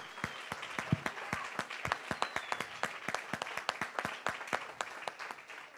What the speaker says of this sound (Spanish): Lo siento, pero yo siento que tengo que darle un fuerte aplauso a mi Señor